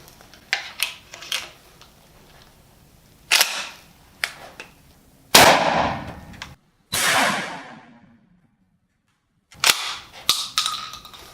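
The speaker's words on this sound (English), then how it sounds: "we're going to use a 20-inch Weatherby shotgun with 12-gauge armor-piercing shotgun slugs" A 20-inch Weatherby 12-gauge shotgun fires armor-piercing slugs outdoors, several sharp loud blasts spaced apart with decaying echoes between them.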